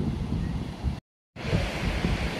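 Strong wind buffets the microphone at the seaside on Gran Canaria's southern coast, a loud steady roar with surf-like rush, broken by a brief dropout of silence midway.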